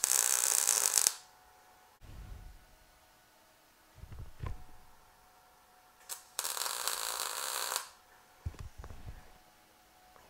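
Tack welds with a Harbor Freight Titanium Unlimited 200 welder making a fillet joint, two short bursts of loud crackling hiss with quiet clicks and handling noises between them, no speech.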